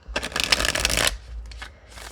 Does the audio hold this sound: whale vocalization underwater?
no